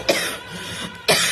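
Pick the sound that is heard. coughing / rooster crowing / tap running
coughing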